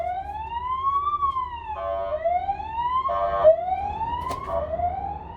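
An ambulance siren wails outside in a rising, repeating sweep, each cycle climbing slowly and then dropping, with brief bursts of a faster yelp between sweeps, moderately loud and steady throughout.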